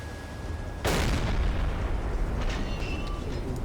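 Deck gun of a U-boat firing shells in Silent Hunter 3, a heavy booming blast that jumps up loud and then rolls on in a long, dense rumble with faint crackles trailing after.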